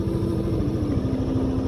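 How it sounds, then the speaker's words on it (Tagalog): A Yamaha Aerox scooter fitted with Maxxis Victra S98 tires rides along a road, its engine giving a steady low drone under wind and road rumble, close and continuous. "Gamit na itong motor Aerox."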